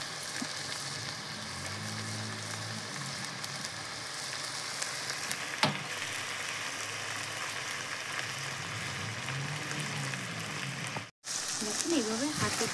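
Ginger, garlic and onion fry in a pan with a steady, close crackling sizzle that continues throughout, while someone talks over it.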